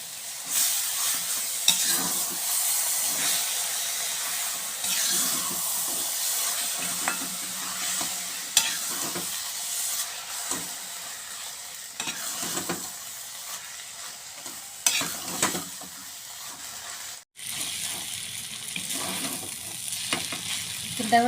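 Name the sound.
stirring kothu parotta with kurma in a pan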